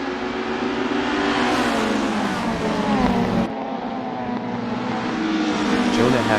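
A pack of race cars launches off the start at Monaco in a racing game, a loud, dense blend of revving engines with rising and falling pitch as they accelerate together.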